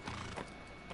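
A horse in Shadow of the Colossus gives a brief, faint whinny with light hoof sounds, lasting about a second.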